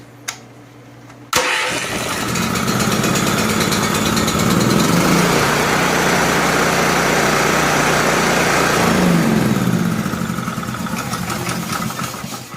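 A Honda generator engine converted to electric key start cranks briefly after a click, catches and runs loudly with a steady close chugging drone, easing slightly in speed toward the end.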